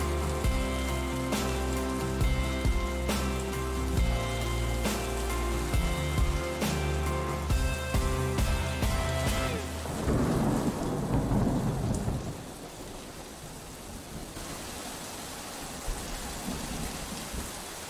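Rain and rolling thunder from a music video, first mixed under a sustained musical bed with piano-like tones, then the storm alone for the last few seconds as steady rainfall with low rumbles.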